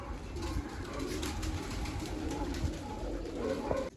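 Several pigeons coo and burble continuously nearby while pecking at scattered grain and water, a dense low warbling chorus with light rustling throughout.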